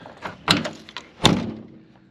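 The metal cab door of an ex-army Unimog being closed, two firm thunks about three quarters of a second apart with a short rattle, close and alone.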